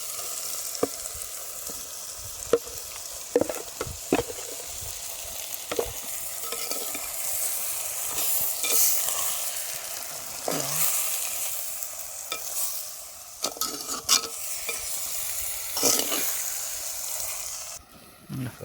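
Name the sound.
marinated mutton heart frying and being stirred in pan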